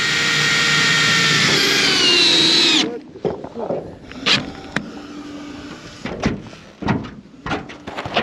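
A power driver runs self-tapping screws into box profile steel sheeting on a self-built garage, whining loudly and steadily for nearly three seconds and then stopping. Someone speaks afterward, with a few knocks and handling sounds.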